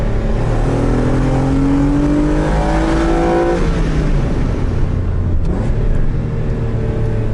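A Renault Clio V6 naturally aspirated engine revs up loudly and close, pitch climbing through several rising sweeps before dropping back to a rough idle.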